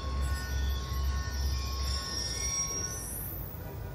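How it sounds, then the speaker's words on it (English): A train passes in the video game Call of Duty Black Ops 2, with heavy low rumbling that fades away and a rising metallic wheel squeal that lingers alone toward the end. "Ain't getting anything else with that train in the way."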